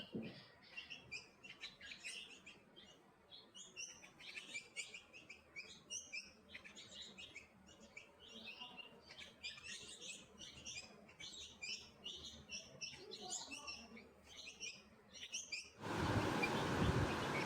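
Sparrow chicks in a nest chirping rapidly and continuously in high, thin bursts as the mother bird comes to feed them, close and fairly soft, ending in a brief burst of broadband noise.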